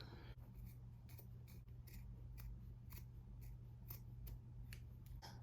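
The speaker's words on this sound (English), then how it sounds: "now we're just going to cut straight along the back" Scissors cut through the fabric of a top in a steady run of close, crisp snips, each blade closure a short crunchy slice over a faint low hum, fairly quiet with no talking.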